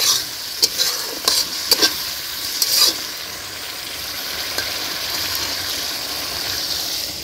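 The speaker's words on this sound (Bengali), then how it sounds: "আজকে ছোট মাছ আর সরপুঁটি মাছ রান্না করা হবে" Sarpunti and other small fish frying in a pan in a village kitchen, with a steady sizzle and a few sharp stirring scrapes in the first three seconds, then continuous frying hiss with no talk.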